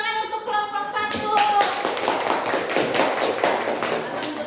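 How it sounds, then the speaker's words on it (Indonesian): Students in a classroom applaud a presenting group, a dense patter of clapping that swells after a few spoken words and continues steadily for several seconds. "tepuk tangan untuk kelompok 1"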